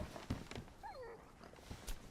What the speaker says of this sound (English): It's an angry puppy.